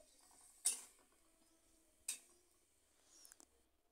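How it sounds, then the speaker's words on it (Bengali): A spoon clatters and scrapes in a pan while pumpkin is stirred with water: two sharp metallic knocks with a soft rattle at the end, faint and spaced out in an otherwise quiet kitchen. "এবার জল দিয়ে ভালো করে মিষ্টি কুমড়ো মিশিয়ে নিচ্ছি"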